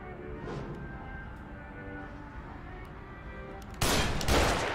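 Gunfire in The Evil Within survival horror game: a loud burst of shots near the end over a steady low ambient game soundscape.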